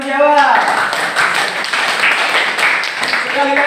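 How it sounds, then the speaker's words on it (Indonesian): Students in a classroom clap for a classmate who answered a Qur'an lesson question: a brisk burst of many hands, bracketed by a voice talking just before and just after. "Tepuk tangan buat yang menjawab."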